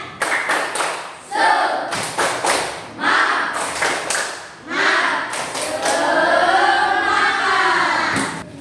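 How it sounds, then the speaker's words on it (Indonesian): A classroom of pupils claps a rhythmic spirit-clapping routine together, loud bursts of group claps and thumps in patterned groups, with voices chanting along between claps. "mari kita tepuk semangat terlebih dahulu bersama-sama"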